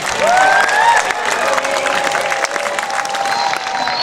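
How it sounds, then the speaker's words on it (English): Audience applause for a scout troop at a summer camp awards gathering, steady clapping throughout with some cheering and a few high whistles near the start. "So give them a big round of applause."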